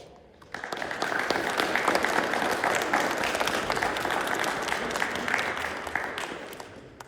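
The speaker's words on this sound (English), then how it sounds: "Students, we should give our parents a big round of applause" A graduation audience at Balboa School in 2022 gives a round of applause for the parents, a dense, sustained wash of clapping that swells quickly and holds for several seconds.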